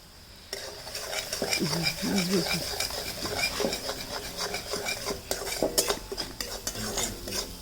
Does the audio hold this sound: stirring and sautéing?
yes